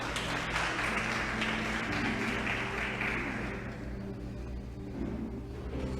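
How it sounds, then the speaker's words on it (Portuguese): A church congregation bursts into applause in praise, a dense, sustained wash of clapping heard from within the room that fades slightly toward the end. "Vamos aplaudir o Senhor?"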